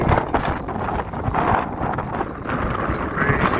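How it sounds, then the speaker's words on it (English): Strong wind buffets an outdoor microphone at a homestead food forest, giving a loud, continuous low rumble with gusty surges, and someone speaks over it. "Look how windy it is."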